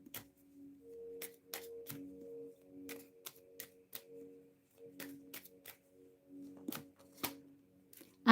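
Tarot cards being shuffled in a quiet room, a series of soft, irregular card flicks and taps with short pauses between, close and fairly faint against near silence.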